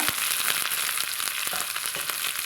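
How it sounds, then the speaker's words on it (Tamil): Green onion, green chili and curry leaves fry in hot oil, giving a loud, steady sizzle with faint crackles and stirring scrapes throughout. No one speaks. "பச்சை வெங்காயம் பச்சை மிளகாய் வெட்டி வச்சுக்கிறேங்க அதை போட்டுக்கிறேங்க கருவேப்பிலையை போட்டுக்கிறேங்க"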